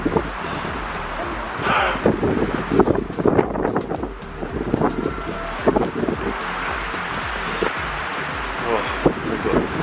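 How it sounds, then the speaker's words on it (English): Strong, cold wind buffets the microphone at the summit of Mount Bromo, a steady roaring rumble with gusty surges throughout, while people exclaim and talk over it. "Really windy."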